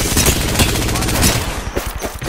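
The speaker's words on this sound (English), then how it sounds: "The enemies are shooting at me." Enemy gunfire in the video game Apex Legends, a dense run of rapid shots crackling steadily through most of the stretch, loud and close, with several sharp bursts near the end.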